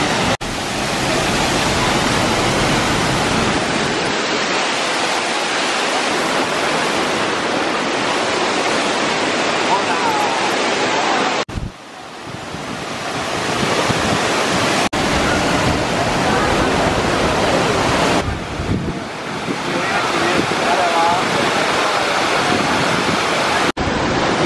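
Mackenzie Falls waterfall in Grampians National Park, a loud, continuous broadband roar of falling water heard up close, with brief cuts between takes.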